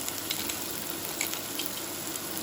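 Onions cooking slowly in a pan with a little salt and pepper give off a soft, steady sizzle and fine crackle, even and close throughout, with no talk.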